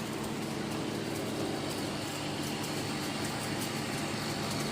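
A 2-ton flake ice machine with a Copeland screw compressor runs steadily, giving a constant broadband mechanical hum with a low tonal drone and no pauses, close and moderately loud.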